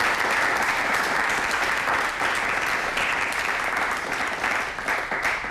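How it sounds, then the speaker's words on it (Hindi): Audience applause at a live Hindi health quiz show on anemia, steady, dense clapping from a crowd filling the whole stretch, loud and continuous with no voices over it. "एक बार ताली बजा के मुझे इंगित करिए।"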